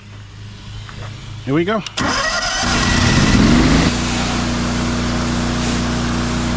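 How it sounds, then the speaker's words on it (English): Pressure washer engine for house washing cranks briefly, catches and settles into a loud, steady running drone close by, with someone speaking just before it starts. "let's go ahead and start our engine and let's get going."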